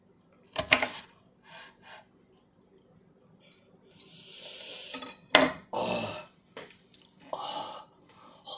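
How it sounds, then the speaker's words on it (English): A knife slices onions on a board in irregular, separate bursts of cutting and scraping, close and fairly loud, with quiet gaps between strokes. "Why am I cutting onions?"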